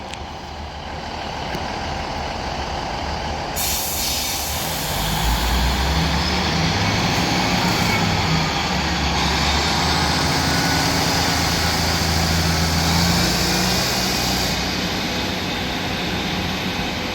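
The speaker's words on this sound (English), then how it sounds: "This Northern 1560 departs Salford" A Northern class 156 diesel multiple unit pulls out of Salford Central station, its engine rumble building into a loud, sustained drone with rising tones as it accelerates away.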